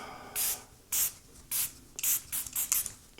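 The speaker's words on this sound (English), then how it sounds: "this setting spray, it really locks it in" Several short hissing bursts of a makeup setting spray bottle, the first few evenly spaced, then a quicker cluster of puffs close to the mic.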